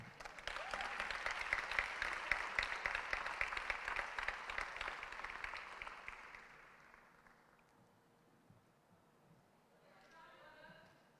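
A gala audience at the Wendell Scott Foundation Legacy Gala applauds in a full, brisk burst that gradually thins and dies away after about six seconds, leaving a quiet room with a faint voice near the end.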